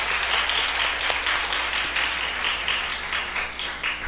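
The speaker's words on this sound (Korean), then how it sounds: "우리 큰 박수로 격려해 주시기 바랍니다." A church congregation breaks into warm, sustained applause after a prayer, with many hands clapping evenly and close by and almost no talking.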